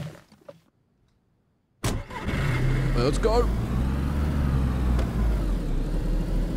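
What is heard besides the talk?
car engine starting and driving in video game DayZ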